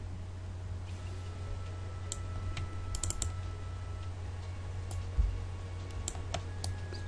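Computer keyboard keys pressed in scattered clicks and taps during 3D modeling work in Autodesk Maya 2014, faint and intermittent over a steady low electrical hum.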